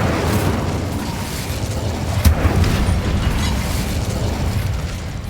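A spell blast in the video game Hogwarts Legacy: a dense, steady roar of low rumble with one sharp burst near the middle, sounding close and loud throughout.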